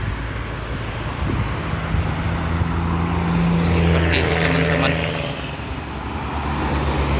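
Steady road traffic on the lakeside road around Lake Singkarak on a busy afternoon, a continuous rumble of passing cars with wind buffeting the microphone and someone speaking briefly over it.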